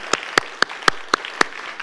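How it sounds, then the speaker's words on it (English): Six slow, sharp, evenly spaced claps ring out close and distinct against a quiet room, as a small audience at a faith festival's guided meditation session gives a brief, polite round. "I know you all would join me with a little applause."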